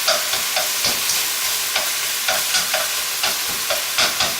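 Thinly sliced beef for bulgogi sizzles loudly in a hot pan, with a repeated rhythmic scrape and clatter as it is stirred, roughly every half second.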